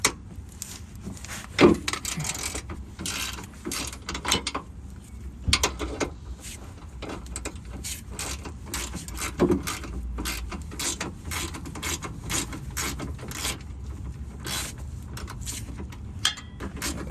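A ratchet wrench works a 15 mm bolt loose on a car, its rapid clicking pawl running in bursts with metallic clinks and handling noise, close and fairly loud with no speech.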